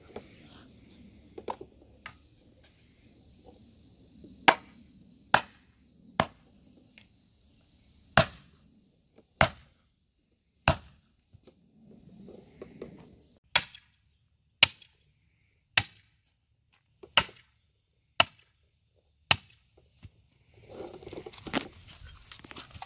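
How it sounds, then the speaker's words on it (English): Stakes driven into backyard ground for a batting cage layout, struck with a hammer in a series of sharp, loud, isolated impacts spaced about a second or more apart, with quiet gaps and faint background rustle. "Then we can drive our stakes."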